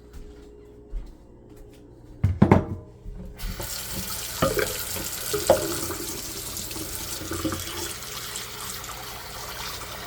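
Tap water runs into a sink as grapes are rinsed. A sudden louder gush comes partway through, then a steady broadband rush with small splashes and clatters, close by and with no voices.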